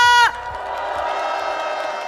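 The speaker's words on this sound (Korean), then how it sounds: "다시 한번 커다란 박수 부탁드립니다." A rally crowd at a national protest gathering cheers and applauds after a speech, a steady dense wash of clapping and shouts that follows a brief loud tone at the start.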